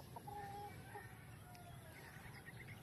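Chickens clucking in a backyard chicken coop, soft scattered clucks and calls heard from a distance over a low, steady background rumble.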